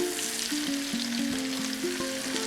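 Flour-dusted chicken pieces sizzle steadily in a pan right after being flipped, with a close, continuous frying hiss and faint shifting sounds. No talking.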